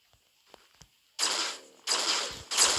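Weapon gunshots in the Pixel Gun 3D mobile shooter game: a few faint clicks first, then three loud, sharp blasts in quick succession, each ringing briefly before the next.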